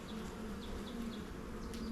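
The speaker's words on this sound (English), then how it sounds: "Ton of bees, ton of nectar." Honey bees buzzing in a steady, dense drone at an open hive during a mid-April inspection, with occasional individual bees passing close by.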